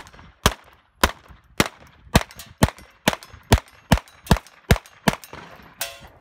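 Glock 17 9mm pistol fired outdoors: about a dozen sharp, loud shots in a fairly steady rhythm roughly half a second apart, close and alone, each with a short ringing tail.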